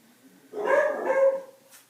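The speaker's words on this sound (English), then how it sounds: "You guys are going to have to deal with the dogs barking" Dogs bark twice in quick succession, close and clear, against an otherwise quiet background.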